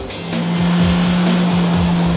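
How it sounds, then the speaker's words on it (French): A loud, close Renault Clio RS Trophy's Akrapovic exhaust roars continuously, with revving engine tone and raspy crackles, no one speaking. "c'est cet échappement signé Akrapovic qui fait pas mal de bruit. Écoutez ça."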